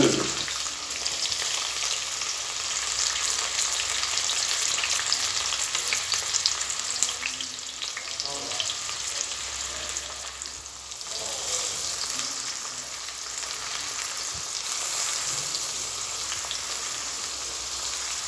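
Onions fry in hot oil for a dry fish and brinjal dish, giving a steady, loud, continuous sizzle with faint stirring throughout.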